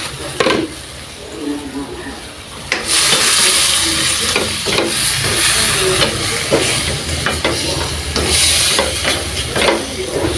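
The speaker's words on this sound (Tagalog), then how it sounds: "Luto na ang ating gulay." String beans (sitaw) frying in a pan, a steady sizzle and hiss broken by scraping stir strokes, loud and close, with a voice speaking over the sizzle.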